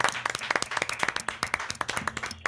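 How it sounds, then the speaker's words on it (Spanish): Audience clapping for a performer, sharp individual claps in a loose rhythm from a modest crowd, close and fairly loud, with a few voices faintly underneath. "¡Aplauso para Fede! ¡Aplauso!"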